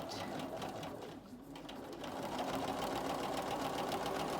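A sewing machine stitches a quilting line along a ruler. It makes a fast, even mechanical whir that pauses briefly, then starts again and runs steadily, close and at moderate volume.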